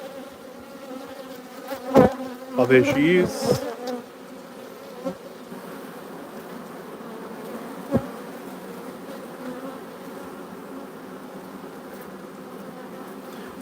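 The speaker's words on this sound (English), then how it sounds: "this is the Liuan bees. These are from South Australia." South Australian bees buzz around their queen, a soft steady hum close by with a few louder buzzes passing near early on; one person speaks briefly.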